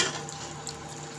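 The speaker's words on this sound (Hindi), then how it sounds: "तो अब इसमें मैं 1 गिलास पानी ऐड कर दूंगी।" About a glass of water is poured into a pot of stuffed tinda (Indian round gourd) on the stove, making a steady, faint, continuous splashing pour with no talking.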